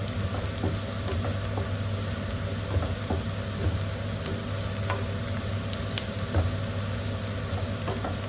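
Whole garam masala, curry leaves, cumin and black cardamom sizzle steadily in hot oil for a chicken haleem tadka, a loud continuous fry with scattered pops and crackles and no talk.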